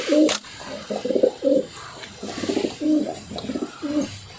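Pigeons at a Cuttack pigeon keeper's loft coo in a steady series of rolling, repeated phrases, close and clear, with no talk over them.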